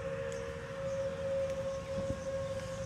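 Civil defense sirens sounding a tornado warning, a steady sustained wail held throughout against faint background noise, with no talking.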